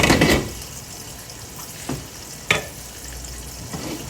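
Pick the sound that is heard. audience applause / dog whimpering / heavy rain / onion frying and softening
onion frying and softening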